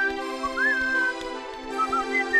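The tin man whistles a light, wavering tune in a Wizard of Oz story, heard as a thin melodic whistle over sustained background music, with no speech.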